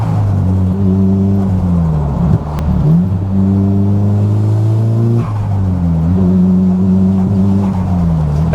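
Nissan S15 Silvia engine revving hard while driving, climbing through the revs with short dips at each gear change, loud and close from inside the car with no talk.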